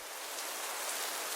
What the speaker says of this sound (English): it rained harder and harder